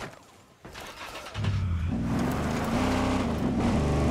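A truck in Ghost Recon: Breakpoint drives along, its engine rumbling low and steady, then growing louder and heavier as it picks up speed, with game ambience over it.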